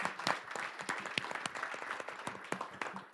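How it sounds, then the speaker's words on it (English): Applause for a moderator and panel at a community conversation event, a steady patter of many hands clapping with sharp individual claps standing out, fairly faint and distant throughout. "let's just give the moderator and the panelists a round of applause"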